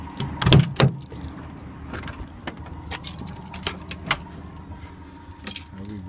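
Keys jangle inside a truck cab at a trucker lot, with a couple of loud close rattles early on, then softer clinks and movement over low vehicle rumble.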